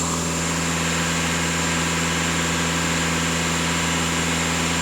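VW Passat B8 diesel engine at idle, a loud, steady mechanical drone with constant low hum and even vibration, unchanging for the whole stretch.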